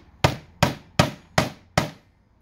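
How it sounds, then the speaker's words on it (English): Five sharp, evenly spaced hammer taps drive a wooden plug into a 35 mm hole in a cabinet door, each strike a crisp close knock with a quick decay, alone without talk. "And just a little tap with a hammer."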